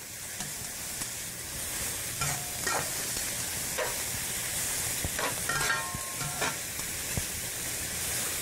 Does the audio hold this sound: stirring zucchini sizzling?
yes